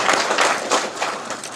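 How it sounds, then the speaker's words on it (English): Audience applause at an evening panel event on learning in games, a dense, steady round of clapping that fills the whole short stretch at moderate loudness. "I just wanted to ask for a big round of applause for Karen."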